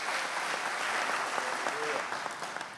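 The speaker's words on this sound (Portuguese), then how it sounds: "Quem crê nisso, aplauda Jesus comigo nesta noite" A church congregation at an evening eschatology seminar breaks into sustained applause, a broad even patter of many hands with faint voices and a brief cry rising through the middle.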